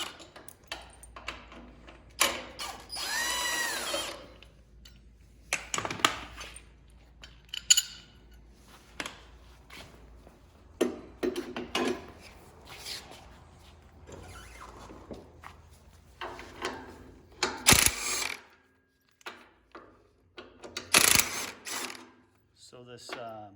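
A ratchet clicks in repeated bursts while attachments come off a Cub Cadet mower deck, with metallic clanks and tool handling between the bursts and brief speech at times.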